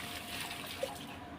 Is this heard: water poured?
yes